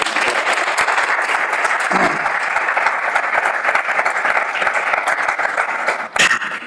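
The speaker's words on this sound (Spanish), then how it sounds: "Un aplauso." An audience at a book presentation in Burgos breaks into sustained, even applause, many hands clapping together at close range without pause before it cuts off.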